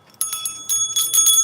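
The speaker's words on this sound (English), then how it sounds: "And I'm also going to ring my bell" A small hand bell rung in a quiet room, several bright metallic strikes in quick succession with ringing overtones that sustain between hits.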